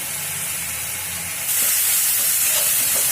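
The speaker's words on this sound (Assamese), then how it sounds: "কাঁচা জলকীয়াকেইটা তেলতে ভাজি দিম।" Green chillies dropped into hot oil hiss and sizzle, a broad steam-like hiss that jumps louder midway and then holds steady, close and unbroken.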